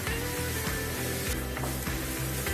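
Onions sautéing in oil over a high flame for a mushroom roast, a steady dense sizzle with a low rhythmic pulsing underneath, continuous and close throughout.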